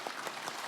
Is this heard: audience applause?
yes